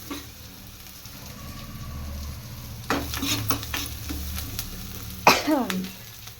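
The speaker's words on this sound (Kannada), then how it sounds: "ಇಷ್ಟೇ ಸೊಪ್ಪು ಹಾಕಿ ತಿರುಗಿಸೋದು ಒಗ್ಗರಣೆ ಕೊಟ್ಟಾಯಿತು" Greens being stirred into a hot tempering in a pan for a leafy-greens sambar, with steady sizzling throughout and a few louder scraping stirs, some coughing or throat clearing nearby, no talk.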